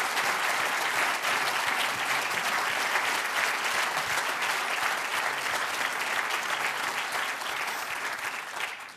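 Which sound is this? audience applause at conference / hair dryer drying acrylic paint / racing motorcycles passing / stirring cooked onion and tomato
audience applause at conference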